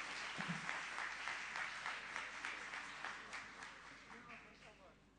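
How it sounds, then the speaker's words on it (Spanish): An audience applauds at the close of a lecture by Dr. Ana María Girardelli on environmental pathology, a steady patter of many hands heard from a distance, gradually thinning out. "Nuevamente despedimos con un aplauso entonces a la doctora Ana María Girardelli."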